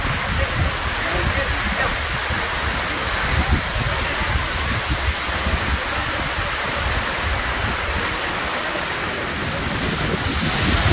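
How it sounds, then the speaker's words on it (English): A waterfall at Chimney Rock State Park in North Carolina gives a continuous, full-band roar of rushing water, steady and loud throughout with no distinct voices. "Slowly pan down this amazing waterfall."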